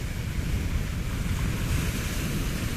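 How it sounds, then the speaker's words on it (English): Sea waves wash steadily onto the shore at Koumbes in Rethymnon, Crete, a continuous close surf roar with some wind buffeting the microphone, with no voices. "you must enjoy the sound of the sea"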